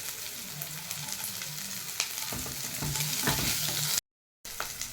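Garlic, Byadgi chilli and onion fry in a hot pan with a steady, close sizzle, broken by several louder stirring scrapes in the second half and a brief drop to silence near the end.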